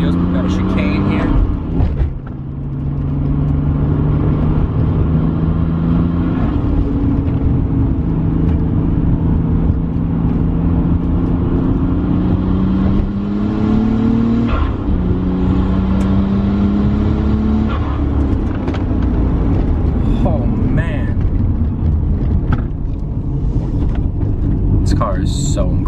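A Nissan R33 Skyline GT-R engine drones loudly from inside the car on a circuit test drive, rising and falling in pitch through gear changes, with a person talking over the steady engine noise.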